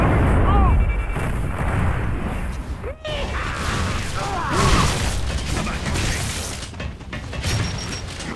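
Explosions and booming fire from a Gears of War 3 match on the Drydock map, with dense rumbling blasts and mechanical clatter throughout and voices talking over the din.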